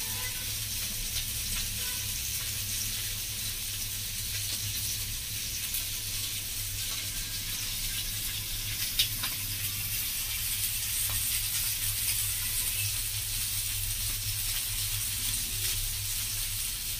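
Bangda mackerel fry in a pan on a tava turned down low, giving a steady, even sizzle and hiss that carries on alone without any talk.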